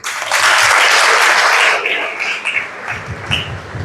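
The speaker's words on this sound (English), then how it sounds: "Give her a round of applause." Students at a school outreach session in Uganda break into loud, dense applause that fades after a couple of seconds into scattered claps, with faint murmuring underneath.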